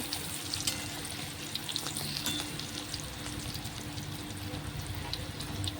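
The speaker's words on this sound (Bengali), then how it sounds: "মাছের ডিমের বড়া কড়াইতে ভাজা হচ্ছে" Fish roe fritters fry in a wok with a steady, close hiss of hot oil that runs unbroken and fairly loud throughout, with no voices.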